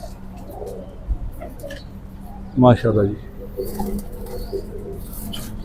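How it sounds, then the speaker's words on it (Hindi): Kasuri pigeons, including a red Lal Pari type, give a short burst of throaty cooing at close range, a couple of rolling calls amid a murmuring background where someone speaks briefly. "ये भी कसूरी कबूतर है।"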